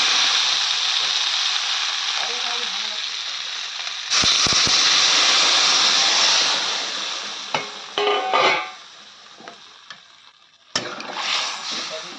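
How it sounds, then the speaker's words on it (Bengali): Water poured into sizzling masala for a katla fish curry with taro, a steady loud hiss that surges as the liquid hits the hot pan, followed by stirring scrapes and a brief settling sizzle, with no talk. "এখন কিন্তু দিয়ে দেবো পরিমাণ মতো জল।"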